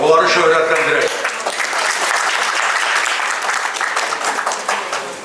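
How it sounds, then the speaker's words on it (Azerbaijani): An audience breaks into sustained applause at a memorial event honouring a fallen soldier and the mothers of martyrs, loud and dense throughout, with a brief voice at the very start. "onları bir alqışlayaq, onları şöhrətləndirək"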